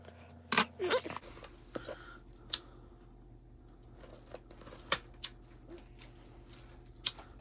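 Scissors trimming threads close to the microphone, a few quick snips early, then sparse sharp clicks spaced over several seconds against a low steady hum, with no talking.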